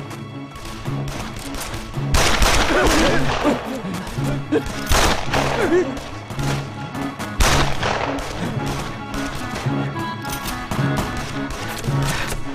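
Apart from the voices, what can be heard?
gunfire in a TV spy drama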